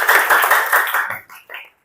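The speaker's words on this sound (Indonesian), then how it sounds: "Tepuk tangan dulu untuk Elvira." A small group claps briefly for a student named Elvira during a classroom teaching session, a short burst of hand clapping that tapers off within two seconds.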